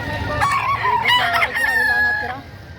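A rooster at a livestock market crows once, loud and close, in a long drawn-out call that fades at the end.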